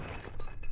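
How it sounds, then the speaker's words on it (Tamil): A brief, close crash of breaking glass in a dramatic film scene, a single dense shattering burst lasting under a second. "ஐயோ கிளாஸ் உடைஞ்சிருச்சு."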